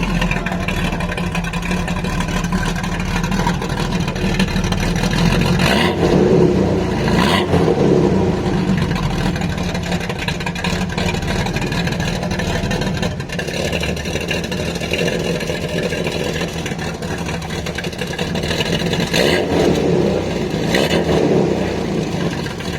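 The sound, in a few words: car engine revving with exhaust valve open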